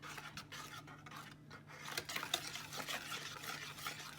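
Cupcake batter being mixed by hand in a bowl, a continuous soft scraping and stirring with faint clinks of utensil against the bowl, steady and close, with no talking.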